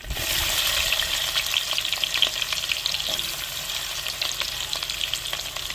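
Onions and green chilies fry in a pan with cumin and curry leaves, a steady bright sizzle broken by scraping stir strokes, close and continuous with no talking.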